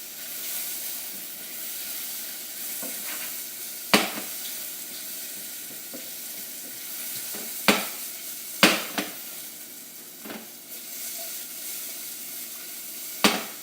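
Mushrooms sauté in a hot pan for cream of mushroom soup, a continuous sizzling hiss broken by several sharp scrapes and knocks as they are stirred and tossed.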